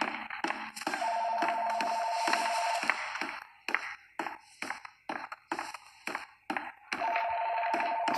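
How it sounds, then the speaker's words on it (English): A telephone rings repeatedly in the Bendy and the Ink Machine video game, long trilling rings separated by gaps, mixed with clattering taps and footstep-like knocks throughout. "And the phone's going off, really?"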